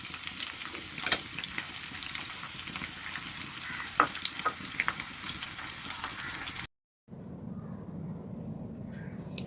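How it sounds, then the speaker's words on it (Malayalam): Coconut pieces roast in ghee in a pan, a steady close sizzle with occasional stirring scrapes, then a short break before a quieter, duller frying hiss. "ഇതിലേക്ക് തേങ്ങാക്കൊത്ത് റോസ്റ്റ് ചെയ്യുന്നതിന് വേണ്ടി ഇടുക"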